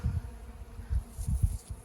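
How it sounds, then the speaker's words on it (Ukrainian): Bees buzz around forest flowers in pulsing low drones that swell and fade as the insects pass close by, with no voices over them. "Чути таке бжишання бджол навколо себе."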